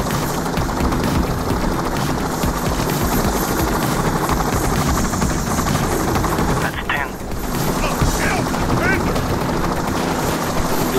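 A helicopter in the video game Payday 2 drones loudly and steadily under dense gunfire and game noise, with only a brief dip in the middle.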